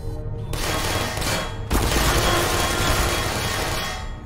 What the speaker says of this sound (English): I'm surprised she could withstand bullet shots like that.